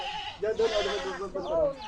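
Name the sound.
goat bleating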